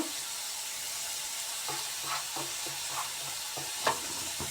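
Grated beetroot and grated coconut being stirred into paddu batter, giving soft, wet, irregular stirring and squelching strokes at a quiet, steady level with a few louder scrapes.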